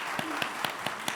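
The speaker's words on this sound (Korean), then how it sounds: "우리 다시 크게 한번 격려의 박수 하겠습니다." A church congregation applauding after a special song during a Korean Sunday service. The claps are faint and evenly spaced, about five sharp claps in a steady rhythm, with no talk over them.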